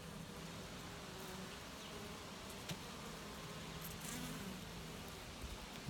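Honeybees buzz in an open hive while a new queen is placed among them, a soft continuous drone of many insects with a few brief louder passes close by.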